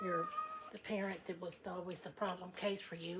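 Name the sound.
cat meowing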